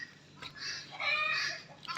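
Chickens clucking softly nearby, a couple of short throaty calls in a quiet setting, fairly faint.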